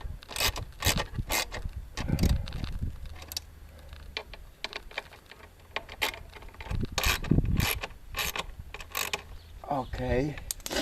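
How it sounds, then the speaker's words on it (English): A wrench tightens and secures parts while a hand tool is converted into a three-wheeler, with sharp metallic clicks, ratcheting and clanks in irregular bursts close by. "Use a wrench. Secure and tie them real tight."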